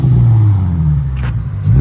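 A 2005 Infiniti G35 with a DTM muffler rumbles through its exhaust, holding a deep steady drone, dipping briefly, then rising again as the revs climb, loud and close.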